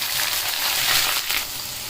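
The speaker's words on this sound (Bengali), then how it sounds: "পেঁয়াজ মরিচ রসুন ভাজতেছি" Onion, chili and garlic fry in hot mustard oil in a karahi, a dense, steady crackling sizzle that stays loud and continuous throughout, with no talk.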